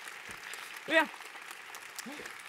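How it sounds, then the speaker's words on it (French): An audience at the opening speeches of a conference day applauds, a soft, steady patter of distant clapping with a brief voice cutting through the middle. "On peut applaudir la barreuse des mots."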